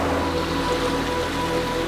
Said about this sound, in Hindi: अब एक विशाल और तेज नदी इस गुफा के बीच से बह रही है।